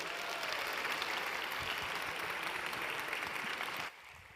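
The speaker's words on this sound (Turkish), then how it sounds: "Alkışlarınızla Şef Dinara Kasko geliyor." Conference audience at an international gastronomy event applauding as pastry chef Dinara Kasko takes the stage, a full sustained roar of clapping that drops off abruptly near the end.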